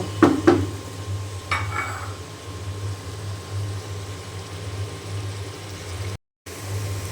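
A lid goes onto a pan of stir-fried vegetables with a couple of sharp, close metallic clanks and a lighter clink a moment later, then a steady low kitchen hum carries on alone.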